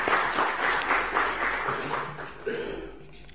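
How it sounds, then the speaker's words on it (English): An audience at a press conference gives a moderate round of clapping that stays fairly even, then begins to fade toward the end. "round of applause, please"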